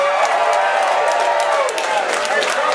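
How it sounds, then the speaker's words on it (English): A live concert audience applauds the show's organisers, a dense, sustained wash of clapping with cheers and whoops mixed in, loud and continuous throughout. "give a round of applause to the Chameleon and her staff for putting this show together"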